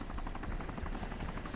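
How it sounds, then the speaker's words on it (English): Armored helicopter carrying rockets flying in the game DayZ OverPoch, its rotor chopping in a fast steady pulse, moderately distant and unbroken, with no voices. "Oh dear, that's an armored helicopter."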